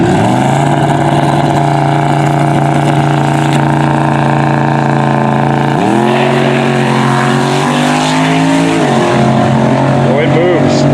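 A bare-chassis C4 Corvette drag car with a 5.4 liter turbocharged motor and big straight pipe idles loudly and steadily, then blips its throttle twice near the end, with engine drone filling the whole stretch and a voice talking over it.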